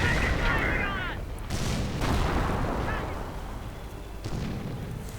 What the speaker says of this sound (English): And there we go, unleashing 6 rockets of death.